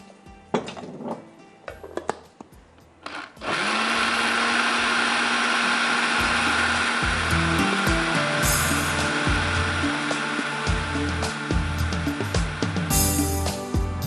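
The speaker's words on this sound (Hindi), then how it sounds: "ब्लेंडर के अंदर डालकर फिर हमने क्या करना है, इसको इसके अंदर डाल देंगे ताकि ये सारी चीज़ें ज़रा घुल जाए" An electric blender whirs through a mixture of fresh milk, vinegar and porridge, starting after a few seconds of clatter and knocks, then running loud and steady with a shifting pitched drone until the end.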